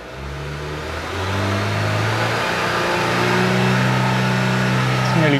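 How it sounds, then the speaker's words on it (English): A car engine revs up steadily during an air mass sensor check with a diagnostic tool, rising in pitch and loudness over several seconds to nearly 4,000 rpm, close and continuous. "if we rev the engine"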